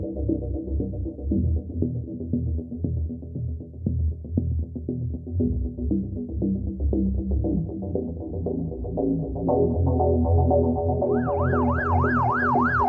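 Police car and ambulance sirens wail continuously and loudly, a low cycling tone joined near the end by a higher, faster rising-and-falling siren, with no voices.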